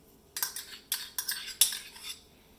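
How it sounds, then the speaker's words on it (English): A spoon stirs leftover yogurt culture into warm milk for homemade Indian dahi, giving a handful of distinct metallic clinks and scrapes against the pot, close and fairly quiet, with no voices. "I have a leftover yogurt sample from the previous yogurt I made, so I'm gonna stir it in"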